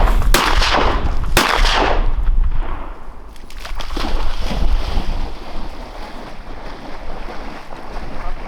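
Two sharp gunshots ring out early while duck hunting in Oklahoma, followed by steady wind and open-water background noise with no talking.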